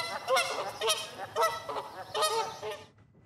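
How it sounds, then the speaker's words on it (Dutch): Canada geese in the city of Den Bosch honking in a rapid series of loud, nasal calls, five or six bursts in close succession, close to the listener, before the sound cuts off abruptly. "de Canadese gans."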